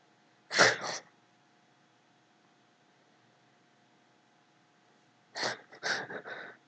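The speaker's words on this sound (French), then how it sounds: "Je tousse." Two separate bursts of coughing, one short cough near the start and a cluster of three quick coughs a few seconds later, fairly close with quiet in between.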